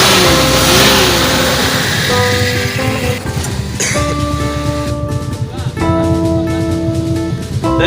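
A Toyota Kijang with a newly replaced oversize 50 engine revs up close and loud, its pitch climbing and falling across several throttle blips over a steady running drone.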